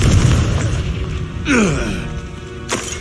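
Confringo fire spell blasts in Hogwarts Legacy combat on hard difficulty, a loud boom with a rising whoosh mid-clip and a second sharp crack near the end over dense rumbling battle noise.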